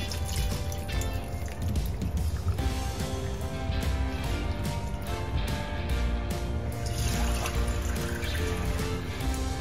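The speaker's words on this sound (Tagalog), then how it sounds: "Alright, lagyan natin yung tubig." Water is poured into a pot of baby back ribs, a steady splashing, trickling stream that runs unbroken for several seconds at close range.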